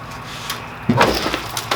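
Door of a rolled Chevrolet Silverado pickup being popped off its hinges, a sudden loud clunk and rattle of metal followed by a brief second knock, with no voices.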